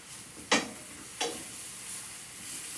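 Rosemary chicken stirred with a wooden spoon in a sizzling pan: two soft scraping strokes over a steady faint frying hiss, close but quiet, with no talking.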